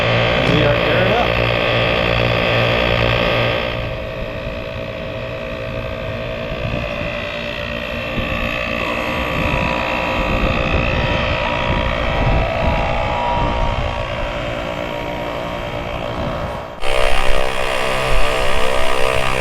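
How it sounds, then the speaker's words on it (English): An air compressor runs continuously while airing up tires through a Speedflate four-tire inflation system, a loud, close, steady mechanical drone with rattling, whose character shifts midway and again near the end. "Turn on the compressor, open up the valve, and we are airing up"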